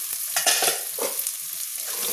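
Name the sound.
stirring and frying vegetables and potatoes in pan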